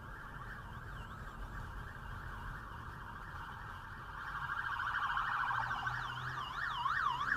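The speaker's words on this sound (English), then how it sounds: "You can hear the sirens in the background" Emergency vehicle siren wailing on a UK road, heard from inside a car in traffic, starting faint and growing louder and closer halfway through, its rising and falling tone repeating over the road hum.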